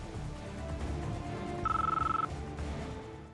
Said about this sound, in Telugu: స్వర్ణ ఫోన్ చేస్తుంది తాతయ్య గారు.